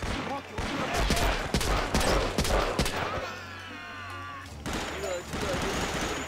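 Rapid bursts of machine gun fire crackle in a video game battle, loud dense volleys for about three seconds, a short lull, then more shooting with voices shouting over it.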